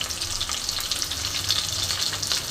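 Green chillies sizzling in hot fish oil alongside a fried fish head, a steady, even crackle and hiss throughout with no talking.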